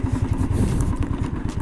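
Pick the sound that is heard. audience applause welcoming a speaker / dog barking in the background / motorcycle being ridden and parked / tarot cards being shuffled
motorcycle being ridden and parked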